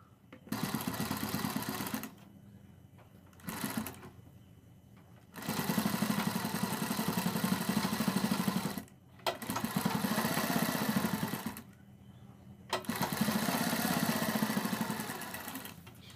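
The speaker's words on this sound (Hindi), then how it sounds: "अब हम यहाँ पर सिलाई लगाएंगे" A sewing machine stitches the seam of a kurti sleeve in steady whirring runs of a few seconds each, separated by brief pauses, close and moderately loud with no talk.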